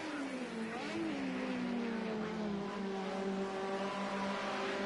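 BMW 2002 Works race cars howl past in a race, engines droning and shifting pitch as they accelerate, fairly loud and continuous with no voices.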